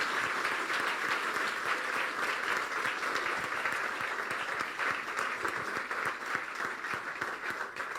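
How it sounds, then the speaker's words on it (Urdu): Loud, steady applause from a church congregation, sustained for the full stretch with dense, even clapping and no break. "زوردار تالیاں بجا دیں یسوع کے جلال کے لیے"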